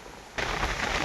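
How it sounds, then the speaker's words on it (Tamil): Heavy rain lashes down during Cyclone Fengal in Cuddalore district, starting as a softer patter and then surging abruptly into a loud, dense, steady downpour drumming on surfaces. "மழையில் நனைகிறது இது ஒரு ஜாலியாக தான் இருக்குது இல்லை?"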